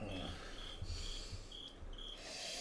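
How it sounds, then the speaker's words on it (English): Crickets chirp in steady, repeated bursts over a low background hum, used as a silent-response sound effect after a joke. "Crickets."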